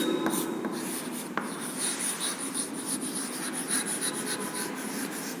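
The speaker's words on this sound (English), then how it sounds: "We will write here reproduce." Chalk or marker scratches and rubs across a classroom board in quick, uneven strokes, close and fairly steady, with a few light taps and no talking.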